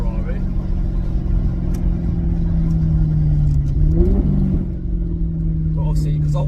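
A Maserati GranTurismo S engine holds a deep, steady mid-pitched rumble, rising briefly in a short rev before settling back, heard close and loud from inside the car.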